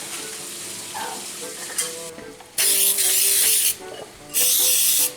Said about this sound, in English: The squash and onions have just a couple more minutes